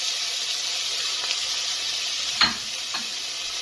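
Ginger, onion, garlic and celery sizzle steadily in a hot pan, a constant frying hiss with a couple of brief stirring scrapes, close and alone without any talk.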